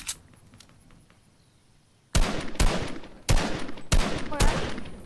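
Gunfire in a Fortnite-style build battle video game: after a quiet stretch of faint background noise, several loud, sharp shots crack out in quick bursts, close and punchy, with brief gaps between them.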